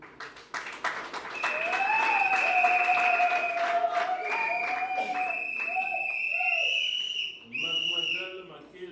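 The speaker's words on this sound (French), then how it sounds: "Applaudissez." Guests at a civil wedding ceremony break into sustained clapping that swells quickly and stays loud. Whistles and cheers rise over it, a few voices call out, and the applause dips briefly near the end before picking up again.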